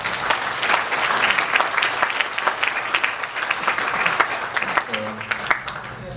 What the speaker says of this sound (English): a round of applause for most of them